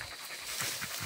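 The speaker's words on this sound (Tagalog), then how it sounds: "Ganyan mga aso pag nasa bundok oh." A dog panting on a mountain, rhythmic rapid breaths repeating close to the microphone, fairly loud and alone without any talk.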